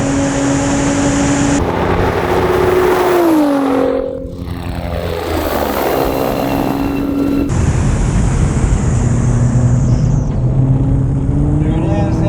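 A Nissan GT-R R35 accelerates hard at high speed, its engine note climbing through gears with brief shift dips, loud and steady over strong road and wind roar from inside the car.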